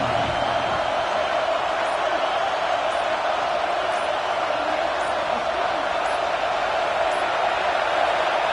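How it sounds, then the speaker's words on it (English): Roar of a packed college football stadium crowd, a loud, dense, unbroken wall of voices and cheering sustained evenly for the whole stretch. "The roar of the crowd trying to fuel this defense to keep them pinned in their own end."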